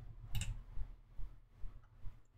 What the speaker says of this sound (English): So when I hit M on my keyboard